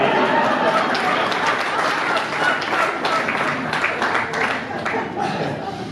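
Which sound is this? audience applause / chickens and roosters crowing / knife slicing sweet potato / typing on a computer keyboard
audience applause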